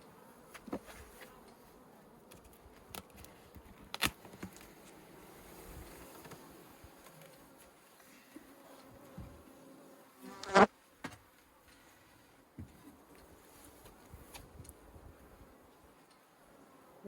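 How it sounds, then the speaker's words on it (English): Honey bees buzzing inside a full hive box, a steady low hum with a few louder close passes and brief knocks, no voices. "it looks like it is a full box of bees"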